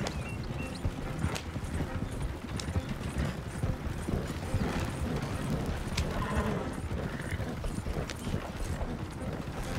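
Horse hooves clip-clop steadily in Red Dead Redemption 2, a continuous trotting rhythm close by with occasional mechanical clicks and faint game ambience, no talking.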